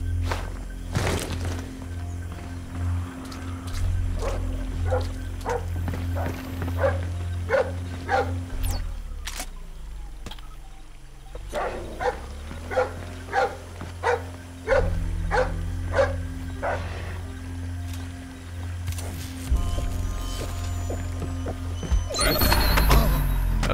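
Dogs bark repeatedly in Splinter Cell: Blacklist, sharp bursts in clustered volleys over a steady low game drone, with a brief lull midway before the barking resumes.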